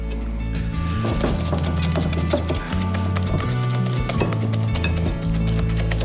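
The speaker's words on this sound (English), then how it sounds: "A teaspoon of corn flour. Beautiful. And we whisk this together." Dessert mixture with cocoa powder and a teaspoon of corn flour whisked in a pan, giving rapid, continuous metallic clicking and tapping close up, fairly loud and steady, with a low hum underneath.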